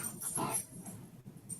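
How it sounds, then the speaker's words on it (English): Dogs whimper softly in the background of a home livestream, with faint, thin, short whines coming and going at a distance. "you may hear my dogs in the background"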